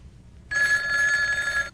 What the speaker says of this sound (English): Mom, Mrs. Aldrich is on the phone